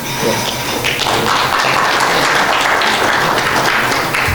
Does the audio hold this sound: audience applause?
yes